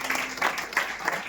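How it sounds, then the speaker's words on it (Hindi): A congregation at a church youth meeting claps in steady rhythm, each clap evenly spaced and sounding moderately distant within the hall. "स्तुति की तालियां देंगे।"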